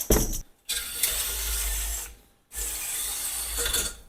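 A hand-spun mechanism on a snowmobile, freshly sprayed with WD-40, whirs and rattles in two long, steady bursts with a brief pause between, close and fairly loud with no talking.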